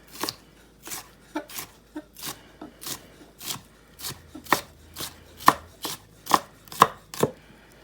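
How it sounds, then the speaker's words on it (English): A knife chops bell pepper into small pieces on a cutting board, a steady run of about fifteen crisp, close thuds spaced roughly half a second apart, with no voices. "we want to turn them and cut them into little pieces"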